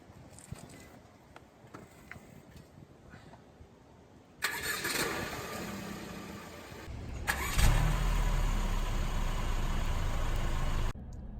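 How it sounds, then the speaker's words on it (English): A Mercedes-Benz E300 4MATIC cranks and fires with a sudden burst. After quiet cabin clicks and handling noise, the engine surges to a loud start, then settles into a steady idle. "I'm going to start it up and show you some of my favorite features."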